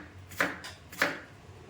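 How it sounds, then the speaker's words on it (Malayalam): A knife slices through bitter gourd on a cutting board, giving two crisp, evenly spaced cuts close by with quiet pauses between them. "ഒരു സാധാരണ രീതിയിൽ സ്ലൈസ് സ്ലൈസ് ആയിട്ട് നമുക്കിത് മൊത്തത്തിലിങ്ങ് കട്ട് ചെയ്തെടുക്കാം"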